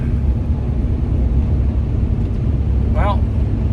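A car cruises at about 45 mph on a slick winter highway covered in salt, sand, snow and water, giving a steady, loud low road rumble throughout with a brief higher chirp near the end.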